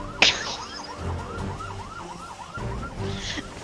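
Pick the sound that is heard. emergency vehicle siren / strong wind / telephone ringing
emergency vehicle siren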